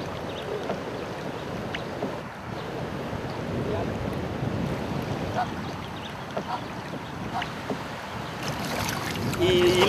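A raft drifts on a natural river in Cuba, carrying a continuous rushing wash of flowing water and wind buffeting across the microphone, steady throughout and slightly louder near the end.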